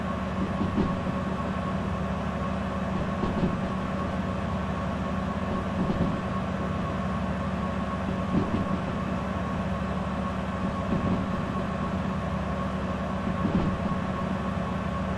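A diesel locomotive in Derail Valley rumbles along the track with a steady engine hum and a regular clack of wheels over rail joints every couple of seconds, close and continuous, with no talking.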